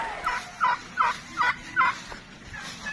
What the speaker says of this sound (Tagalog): magkakatay tayo ng pabo